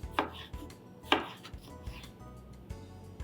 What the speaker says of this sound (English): Let's begin with slicing onions and tomatoes. Slicing tomatoes as well.